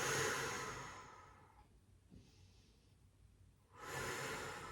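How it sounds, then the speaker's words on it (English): Slow deep breathing during a strength and stretch exercise session, a long airy exhale, a quieter pause, then another full breath, close and clear with no talking. "Hold it and just take a few deep breaths in."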